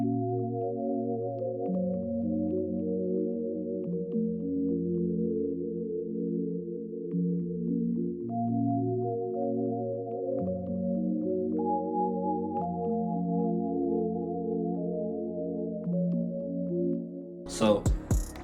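Hive synthesizer on its Sign Toys preset plays soft, sustained layered chords with shifting harmony, steady and alone, until a brief burst of noise at the very end.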